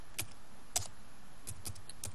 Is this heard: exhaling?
no